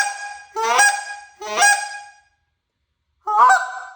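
Three loud, close goose honks blown one after another on a short reed goose call, each a rising, nasal two-part note with a pause before the last.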